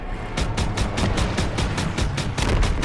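Rapid gunfire in the World War II shooter Call of Duty WWII, a loud, evenly spaced burst of repeated shots over a rumbling battlefield background, continuing without a break.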